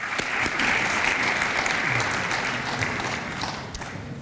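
A community audience at a Martin Luther King Day celebration gives a sustained round of applause, with steady hall-filling clapping that swells early and then slowly tapers off.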